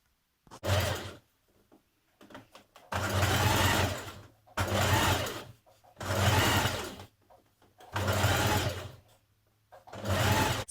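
Domestic sewing machine running a stretch stitch over the seams of a sports bra top, in five loud, close bursts of rapid whirring, each lasting one to two seconds, separated by short quiet gaps.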